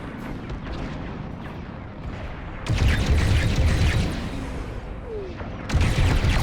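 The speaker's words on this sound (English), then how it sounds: "That missile made contact." A missile strikes and explodes during a starfighter battle in Star Wars Squadrons. Two loud, rumbling blasts erupt over a steady engine-and-combat din, each sustained for about a second or more.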